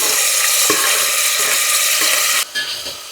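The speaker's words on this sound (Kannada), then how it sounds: "ಕರಿಬೇವು ಸೊಪ್ಪು ಚೆನ್ನಾಗಿ ಹುರ್ಕೊಂಡ್ಮೇಲೆ ಇದಕ್ಕೆ ಟೊಮೆಟೊ ಹಣ್ಣು ಸೇರಿಸ್ಕೊತಿದ್ದೀನಿ" Tomatoes added to curry leaves and garlic frying in a pan, a loud, close, crackling sizzle with several stirring scrapes, cutting abruptly to a quieter hiss near the end.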